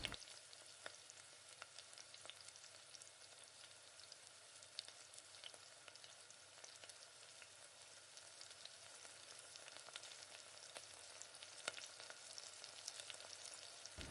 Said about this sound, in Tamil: எண்ணெயில் நல்லா வதக்கிக்கோங்க